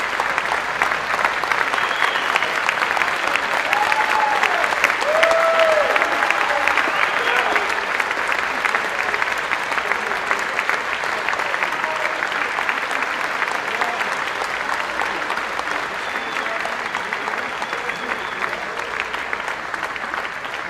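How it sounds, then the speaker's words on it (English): Sustained round of applause for a coach at a high school athletic recognition night, dense steady clapping from a large audience lasting about twenty seconds, with faint voices mixed in. "tell him exactly what he has meant to Tennessee High School with a round of applause"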